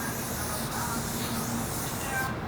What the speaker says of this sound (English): The Sharpshooter cap definitely tones down the spray nicely to get a much more consistent spray